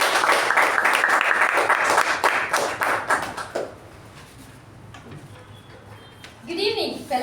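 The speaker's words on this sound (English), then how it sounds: "Please help me welcome Toastmaster Deepa with a thunderous round of applause." A Toastmasters meeting audience breaks into loud, dense applause that fills the room for about three and a half seconds, then thins out into quiet room sound with a few faint stirrings near the end.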